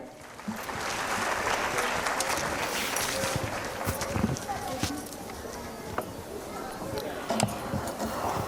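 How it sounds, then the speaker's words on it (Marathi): An audience claps in a sustained, busy burst of applause for an organizing committee at a women's program event, with scattered louder claps and crowd chatter underneath. "या सर्व कमिटीसाठी एकदा जोरदार टाळ्या"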